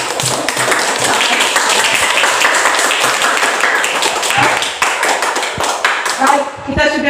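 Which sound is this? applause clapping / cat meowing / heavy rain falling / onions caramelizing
applause clapping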